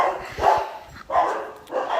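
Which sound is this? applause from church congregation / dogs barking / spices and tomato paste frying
dogs barking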